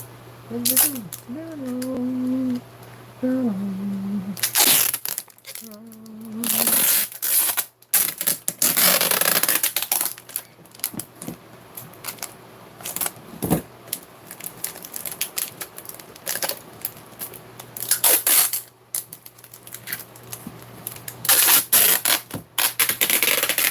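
Shipping packages being wrapped tightly with packing tape, with a run of rasping tape pulls, crinkles and sharp clicks in fast, irregular bursts, close and fairly loud, plus a voice talking briefly at the start.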